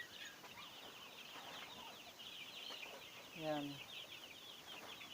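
Three-day-old chicks cheep and peep constantly inside a covered cage on a cold day, close and fairly soft, with a brief louder call in the middle and a person speaking briefly.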